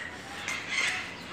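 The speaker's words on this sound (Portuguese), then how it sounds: "Olha a barulheira dos pássaros" Birds at an orchid garden in Santos squawk and cluck in a dense, continuous chorus, loud and fairly close, with a few sharper calls rising out of the din.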